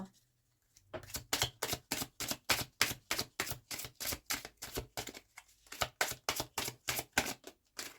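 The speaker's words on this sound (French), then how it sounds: "On va tirer encore 3 cartes." A deck of tarot cards is shuffled in quick, even riffling bursts, a close, crisp, regular patter lasting several seconds with a short pause partway through.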